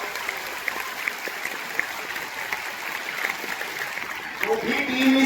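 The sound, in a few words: audience clapping continuously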